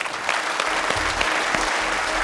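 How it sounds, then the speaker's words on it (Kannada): An audience at a television game show bursts into loud, sustained applause, a dense wash of clapping heard close and continuous throughout. "ಮತ್ತೆ ಬರ್ಲಿ ಜೋರಾಗಿ ಚಪ್ಪಾಳೆ"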